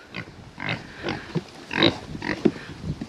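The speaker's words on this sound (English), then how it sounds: "on the back acre of our property we have pigs, and these ones are just meat pigs" Meat pigs on the back acre of a small homestead grunt and snuffle close by in a busy, irregular series of short bursts, with no voices.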